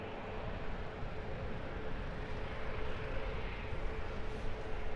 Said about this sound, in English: And on your screens now, Ryanair 737 MAX 8. This one heading off to Malta.